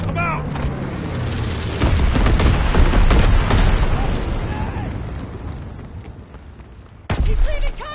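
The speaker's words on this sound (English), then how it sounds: "Incendiary bombs incoming." Incendiary bombs dropped by an enemy bomber in a war video game burst in a heavy, rumbling roar that swells and slowly fades, followed by a second sharp blast near the end, with a voice shouting amid the chaos.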